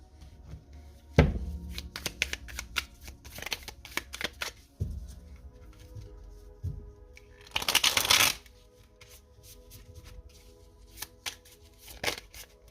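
Tarot cards shuffled by hand in a quiet room, with soft riffling and tapping clusters, a sharp knock near the start, and a louder burst of rapid riffling around the middle, without speech.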